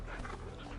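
Torgal the dog gives a brief yip or bark in the video game Final Fantasy XVI, a single short burst amid busy game background sound.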